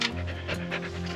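Dogs pant rapidly in quick, breathy rhythmic bursts right up close to the microphone, loud and steady over a low hum.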